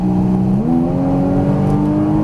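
A Porsche Cayman GTS engine pulls hard on throttle at Exotics Racing Las Vegas, a loud close drone whose pitch steps up and then climbs steadily.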